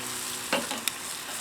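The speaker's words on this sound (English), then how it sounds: "We're gonna just turn the potatoes, give the asparagus a stir here." Potatoes and asparagus sizzling faintly on a cast iron grate, with a couple of short scraping, stirring sounds as they are turned.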